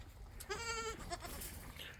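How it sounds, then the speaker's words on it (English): Goats on a family farm give a single clear, nasal bleat at moderate distance, short and wavering, against quiet outdoor background. "I'll bring these goats in a little bit."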